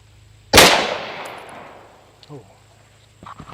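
A single loud, close SA58 rifle shot at an outdoor range, with a sharp blast and a long decaying echo, followed by faint clinks and small handling noises.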